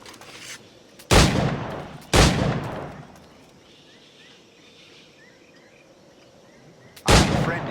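Flintlock firearm gunshots in Assassin's Creed Black Flag, three loud sharp blasts, two close together and one several seconds later, each with a decaying tail, with faint insect chirping between.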